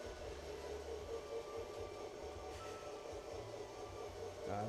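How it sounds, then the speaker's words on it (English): A train in a train video game pulls away from a standstill, a low, steady engine rumble with shifting tones under a constant hiss, faint and without talk. "So let's start what we have been calling the impossible train."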